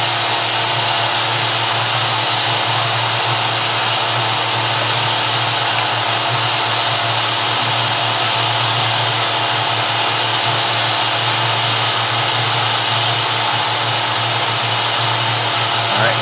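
A Miller 105 fabric welder sealer blows hot air with the heat turned up, a loud, steady, unbroken blower whoosh that runs close and alone throughout.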